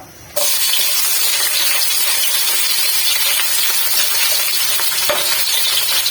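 Ginger hits hot cooking oil in a pan and starts sizzling: a sudden loud, dense crackling hiss that holds steady and close for several seconds, with no talking.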